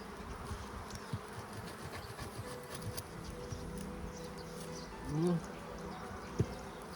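Carpathian honey bees hum at an open hive, a faint steady drone close by with a brief louder buzz passing near the microphone, while a person talks in the background.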